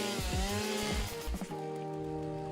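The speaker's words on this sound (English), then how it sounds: "Chainsaw sounds." In the factory-building game Satisfactory, a chainsaw cuts through plants with a loud, steady droning whine broken by choppy bursts and shifting pitch, with no talking over it.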